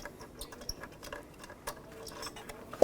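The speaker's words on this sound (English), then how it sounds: "I'm going to switch to a ratcheting wrench just so I can go a little bit easier" A ratcheting wrench loosens the tensioner bolt on a 2001-2007 Volvo V70 during a timing belt job, giving a run of faint, quick, irregular clicks close by with no talking.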